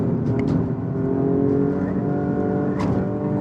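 A GR Yaris engine revs hard as the car is pushed past its limit, a loud, steady, close-up drone with brief higher squeals over it, no one speaking.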